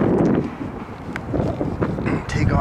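Strong gusting wind buffets the microphone at an RC plane flying field, a loud broadband rumble that swells and eases throughout with no clear voice.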